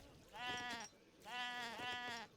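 Sheep bleating in Age of Empires 3: two clear, close bleats, each a wavering drawn-out call, separated by a short pause, with no talk over them.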